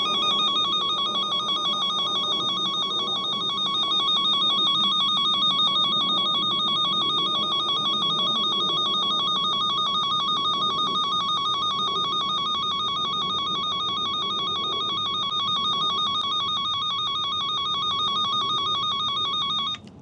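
A steady, piercing electronic wire tracer tone drones without pause for the whole stretch over a faint background hiss.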